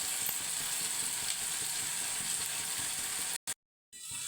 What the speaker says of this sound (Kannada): ಸ್ವಲ್ಪ ಕೊತ್ತಂಬರಿ ಹಾಕಿ ಫ್ರೈ ಮಾಡ್ಕೊಂಡು